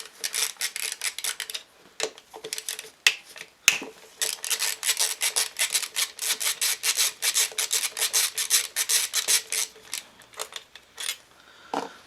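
8 mm bolts are loosened on the engine of a Honda Dio scooter. A steady, quick rasping ratchet-like rhythm plays up close with a few short pauses and one sharp knock, and no voices.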